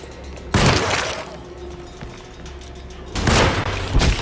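In the Alone in the Dark video game, a weapon breaks with a sharp crashing burst, and another loud shattering impact follows a few seconds later over a low murky game ambience.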